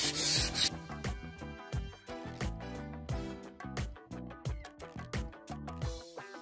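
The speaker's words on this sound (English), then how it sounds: "So now I'm gonna go over to the 220 here. We're gonna rub that down" Wood being rubbed down by hand with 220-grit sandpaper between coarser and 400-grit stages; rhythmic back-and-forth scratchy strokes, roughly a dozen passes, close and moderately quiet with no talking.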